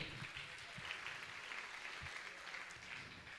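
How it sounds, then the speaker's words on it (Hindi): Enthusiastic applause from a gathered audience at a religious discourse event, a faint but continuous wash of many hands clapping, with a few soft low murmurs underneath. "आप जोरदार ताली बजाकर उनका सम्मान करें।"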